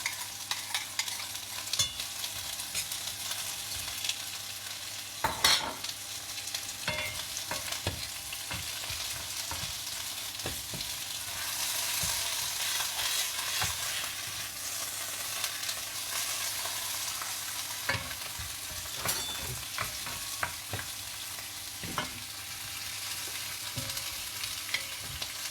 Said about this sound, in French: je vais faire cuire les oignons sur le côté